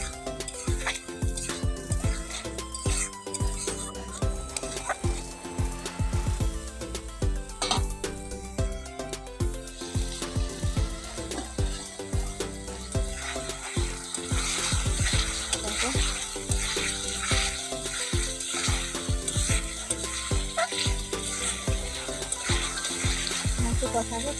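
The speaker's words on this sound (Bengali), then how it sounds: "দেখো ডিম আলুগুলো দিয়ে দিলাম, ভালো করে কষিয়ে নেব।" Eggs and potatoes fry and are stirred in hot oil for an egg and potato curry, a steady close sizzle broken by scraping and clinking of the utensil against the pan, with someone talking over it.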